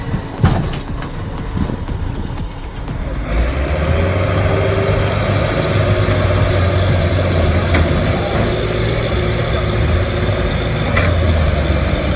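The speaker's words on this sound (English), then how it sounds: "The Kirovets is revving up, John Deere is locking in." Heavy tractor engines, a Soviet Kirovets and a John Deere, rev together as a steady loud drone with low throbbing tones, joined by a rising roar after the first few seconds and holding on without voices.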